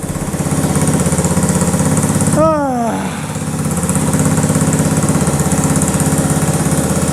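An abandoned Honda three-wheeler's small engine runs on choke with a loud, steady, rapid chugging close by, briefly dipping with a falling whine midway before picking back up; someone talks over it.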